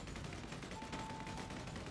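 Explosive bullets fire in the top-down shooter video game Solstice Chronicles: MIA, a rapid, dense stream of quiet gunfire bursts with crackling pops under a constant background.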